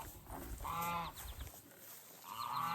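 Geese honking close by, a few loud nasal calls in quick succession, then a short pause before another honk.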